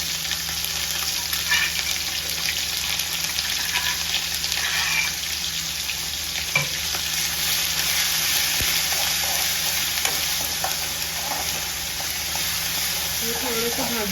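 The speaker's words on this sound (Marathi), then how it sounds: "फोडणीचा एकदम मस्त आवाज येतो तडतडीत." Ginger, garlic and green chili paste sizzles and crackles steadily in hot oil, a loud, continuous frying hiss with occasional stirring clinks throughout.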